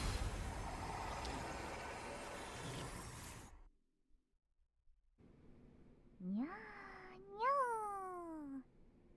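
A cat in the Honkai Impact 3rd video game gives two clear, close meows in quick succession, following a burst of loud game noise and a brief silence.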